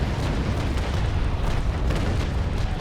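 Cannon fire striking a frigate in the naval battle game Naval Action, a dense rumbling boom that rolls on continuously and loud with no clear gaps, no talk over it.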